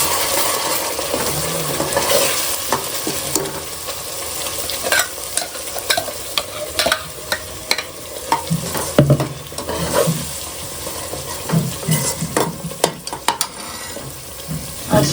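Raw ground masala paste fries in oil as it is stirred briskly, producing a continuous loud sizzle broken by frequent scraping and clinking strokes of a spoon against the pan.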